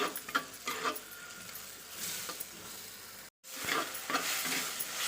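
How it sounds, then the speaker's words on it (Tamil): Tomatoes sautéing in oil in a pan, a steady close sizzle broken by scraping stirs and one brief dropout, no talk. "இப்போ நம்ம தக்காளியை ஆட் பண்ணி நல்லா இதில் வதக்கி இது எண்ணெய் பிரிஞ்சு வர அளவுக்கு நம்ம இதை நல்லா வதக்கிக்கலாம்"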